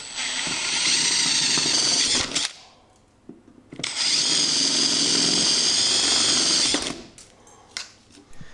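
A power drill enlarges 8mm mounting holes in the body of a Toyota 60 Series for a snorkel install, with two loud sustained whining bursts separated by a short pause, close and alone.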